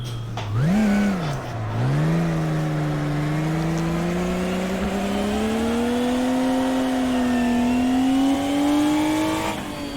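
Road car engine in a drifting game revs up sharply, dips, then climbs in a long rising whine with clear harmonics, loud and close, ending with a brief lift; no one speaks.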